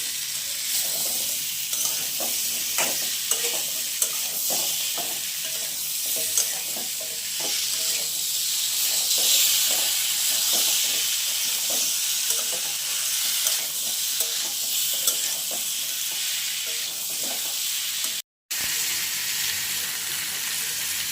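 Koi fish masala with cut drumstick stalks sautéing in a pan, a continuous hiss of sizzling with frequent rhythmic scrapes of a spatula, close by and without voices, cut by a brief dropout near the end.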